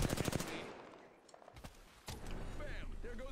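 Rapid automatic gunfire from the game Apex Legends bursts out in a fast rattling volley, then fades into mixed game sounds and further shots with a voice talking alongside.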